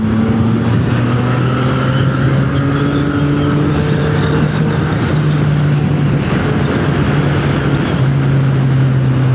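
A motorcycle being ridden, its engine holding a steady drone that slowly rises in pitch as it accelerates, loud and close with rushing wind noise underneath, no speech present.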